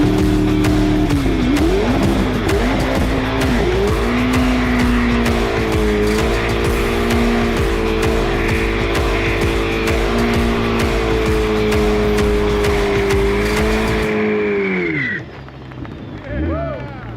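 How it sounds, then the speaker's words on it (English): A car engine roars steadily at high revs with screeching tires for about fourteen seconds, then drops off abruptly as the revving cuts out; loud and continuous. "And I think what we need to do now is a burnout."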